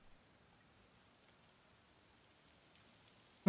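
Steady soft rain falls in The Pedestrian, a fine even patter with no voices, ending on a sudden brief knock.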